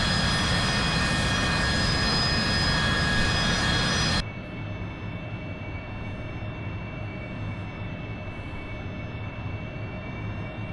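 AV-8B Harrier II jet engine in flight in the DCS World flight simulator, a loud steady roar with high whining tones that abruptly drops to a quieter, muffled drone partway through, no talking.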